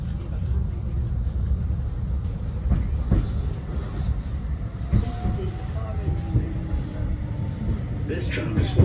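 A steady low rumble of a Blackpool tram rolling on rails, with occasional clicks and squeals over the track, while a recorded announcement voice speaks.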